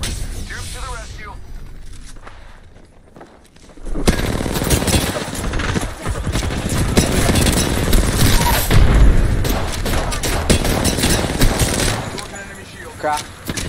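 Sustained gunfire in a video game firefight as a player in a Lifeline match is spotted and taking fire: dense, loud bursts of shots and impacts rolling on for about ten seconds, with game voice chatter mixed in.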